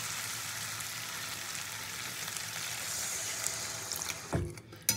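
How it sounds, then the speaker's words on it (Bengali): Water goes into a hot pan of spiced mushroom and potato, giving a steady loud hiss and sizzle that fills the whole clip, then breaks into a few splashy bumps as it settles near the end. "এবার আমি পরিমাণ মতন জল দিয়ে দেবো"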